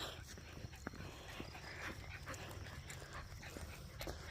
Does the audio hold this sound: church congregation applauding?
no